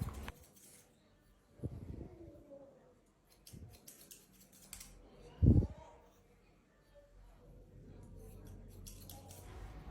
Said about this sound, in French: j'ai pris mes ciseaux de coupe pour en fait couper les pointes pour bien affleurer sur les côtés